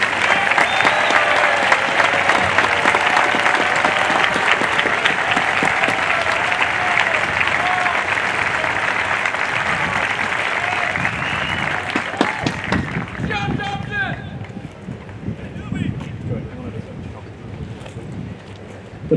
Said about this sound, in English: let's have another round of applause for the Commanding Officer's Personal Excellence Awardees